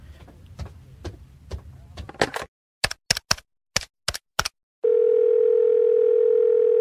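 A telephone on a coffee table is dialed with a quick series of sharp clicks, then a loud, steady dial tone hums on alone, after some muffled bumps and handling sounds.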